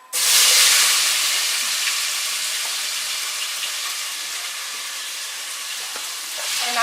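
Chopped onion and tomato drop into a warm pan for a South African chicken curry and burst into a loud, steady hiss and sizzle that slowly eases but carries on throughout.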